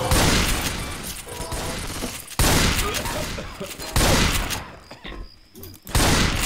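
Loud, dense bursts of gunfire fill Left 4 Dead gameplay, sustained volleys breaking off abruptly and restarting with mechanical clatter between them.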